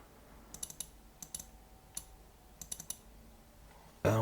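Light computer clicks sound in small quick clusters, crisp and close, with short gaps between groups, followed by a brief louder thump at the very end.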